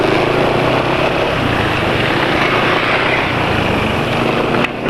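A Yamaha Vega motorcycle engine idles steadily after a change to SAE 40 oil, a continuous, even, close-up drone at constant loudness that cuts off abruptly near the end.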